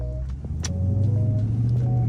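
A Dodge Charger Scat Pack rolls past close by, its engine a loud, steady low rumble with a brief higher whine as it goes by.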